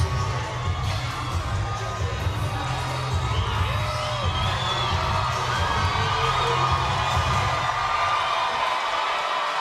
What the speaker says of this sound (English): And you hear the crowd begin to react to one of their own.